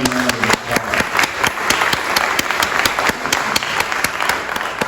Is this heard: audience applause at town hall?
yes